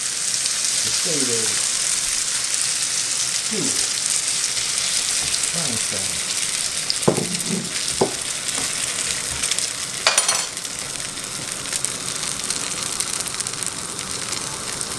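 Mushroom sauce fries in a pan with a steady, loud sizzle and crackle throughout, while a person speaks briefly in short bursts over it.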